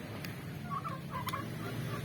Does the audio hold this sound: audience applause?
no